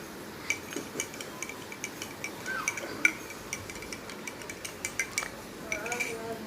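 A spoon stirs coffee and milk in a cup, giving a steady run of light, quick clinks against the sides over a faint background hiss.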